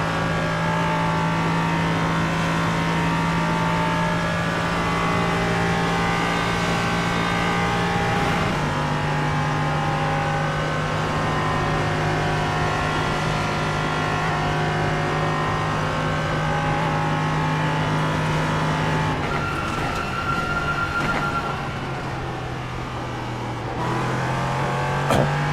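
A race car engine in iRacing practice laps holds a steady high drone, dropping pitch with gear shifts and lifting again, continuous and close throughout.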